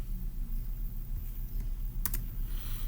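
Computer keyboard typing, a short burst of two or three quick clicks near the end over a steady low background hum, close and fairly faint, with no talk.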